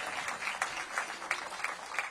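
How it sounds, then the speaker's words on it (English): Audience applause for graduating DC public school students at a library ribbon-cutting ceremony, a brief, moderate burst of clapping from a crowd. "Give our kids a big round of applause."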